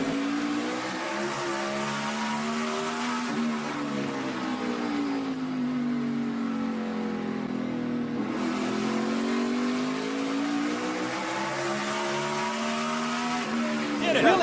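NASCAR Sprint Cup race car on a qualifying lap, a loud continuous engine roar rising and falling in pitch as it accelerates off a corner, with commentary talk over it.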